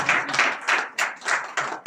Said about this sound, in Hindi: जोरदार तालियां हमारे मजीद भाई के लिए।